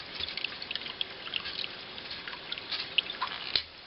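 Water trickles steadily out of a springbox at a camp spring, a faint continuous wet rush with scattered small drips and splashes standing out, heard alone without talk.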